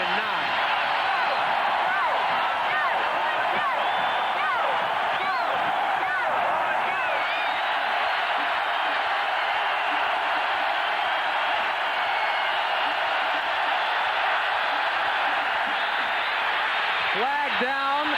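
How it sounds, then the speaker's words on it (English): A dense, steady roar from a packed college football stadium crowd fills the air on a third down, Texas versus Arkansas in 1991, with commentators talking over the constant wash of noise. "Listen to this crowd now on 3rd and 9."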